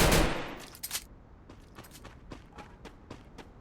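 Gunfire in the video game Free Fire crackles in a burst of rapid shots at the start, followed by a string of fainter, evenly spaced single shots.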